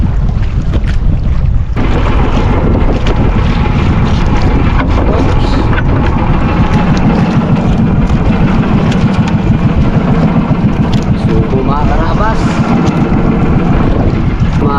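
A boat powers through strong sea waves off Palawan, with a steady engine drone under heavy wind buffeting the microphone and washing spray, loud and continuous throughout, with some voices faintly mixed in.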